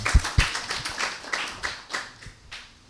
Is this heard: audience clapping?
yes